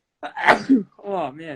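A single sharp human sneeze bursts out close to the microphone during a casual podcast conversation, followed by someone speaking briefly.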